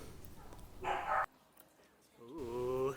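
Pet dogs bark and yip in a short burst of excited noise, with a loud howling or whining stretch at the end.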